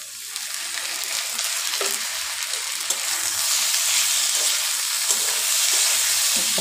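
Minced chicken frying in a pan for ghugni, a steady close crackling sizzle with occasional stirring scrapes, heard alone without talk.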